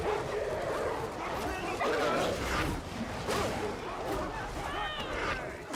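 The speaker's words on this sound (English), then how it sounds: "Oh god, the dogs." Dogs bark, yip and whimper close by in a noisy setting, a busy jumble of yaps over constant background din.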